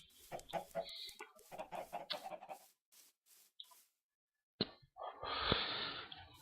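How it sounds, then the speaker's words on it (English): Chickens in the video game Thaumcraft cluck in short bursts and clusters, fairly close, with a brief pause before a louder burst of noisy flapping or scuffling. "occasionally I have a chicken that escapes, but whatever, I have tons of chickens"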